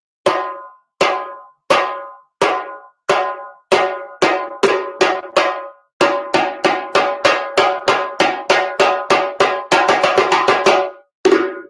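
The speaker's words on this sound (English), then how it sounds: "the last sound is a slap sound" A series of sharp, ringing hand drum slaps, spaced out at first, then played faster and continuously, ending in a quick roll and one final slap.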